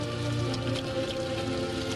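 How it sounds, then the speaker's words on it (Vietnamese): Heavy rain pours down in a dense, unbroken hiss of drops striking surfaces, loud and constant throughout, with a low tonal background underneath. "Mưa lớn như vậy á, anh không chạy được đâu."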